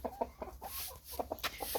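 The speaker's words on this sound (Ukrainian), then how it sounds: "Ось півник перейшов сюди." A rooster clucks in short, repeated bursts close by, with a few brief faint chirps from other birds in the background.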